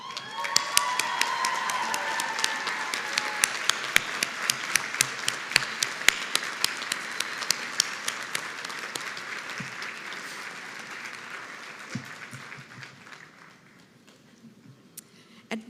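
Graduates at a college commencement stand and applaud faculty and staff, a dense sustained wave of clapping that gradually thins and fades toward the end, with a few scattered late claps.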